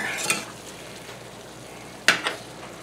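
Quiet sizzle of ground meat frying, broken by two sharp scraping strokes of a utensil stirring in the pan.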